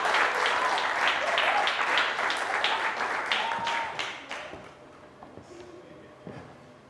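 Applause from a studio audience for a student contestant on a Ugandan school quiz show, a dense burst of clapping that fades out over several seconds as a host's voice comes in.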